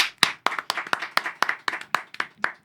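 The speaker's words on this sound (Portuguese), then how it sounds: "Uma salva de palmas." A studio audience claps to welcome a guest onto a talk show, about a dozen sharp, uneven claps standing out close and fairly loud over a sparse background.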